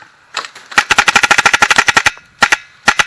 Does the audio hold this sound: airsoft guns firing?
yes